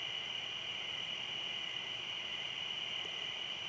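A constant high-pitched cricket trill fills the night air, steady and unbroken, with a soft low rush of river water beneath it.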